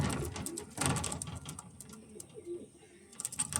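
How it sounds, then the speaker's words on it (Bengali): White pigeons coo repeatedly at close range, soft throaty calls layered with chirps and a steady background hum, while someone talks over them at times. "আজকে প্রচুর ভালো ভালো পায়রা আছে"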